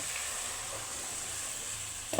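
Steady sizzling hiss of cauliflower frying in a pan for curry, continuous and close, with a brief clatter near the end.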